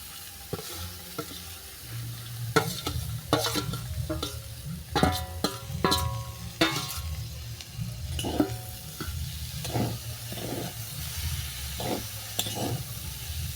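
Potatoes, onions and boiled green peas being stir-fried in a pan, a steady sizzle broken by repeated scraping and clanking strokes of a spatula, close and moderately loud, no talk.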